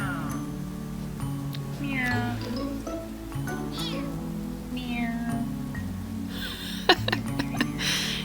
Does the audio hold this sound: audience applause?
no